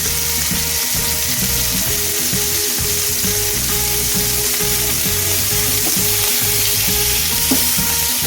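Paneer cubes frying in hot oil on a high gas flame, a loud, steady, close sizzle that runs throughout with no pause and no talking.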